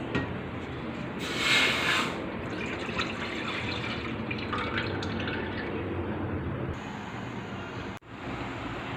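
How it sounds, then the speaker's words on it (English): Strained concentrated coconut milk pours into a metal pan, a continuous trickling, splashing stream for several seconds with a brief brighter burst of splatter early on and a small clunk near the end. "pour the strained concentrated coconut milk into a metal pan for the final heating process."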